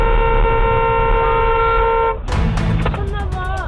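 A car horn sounds loudly and close at a wrong-way car on the road, a short honk then repeated rapid toots over engine and road noise, after a sustained tonal horn-like drone from the vehicle.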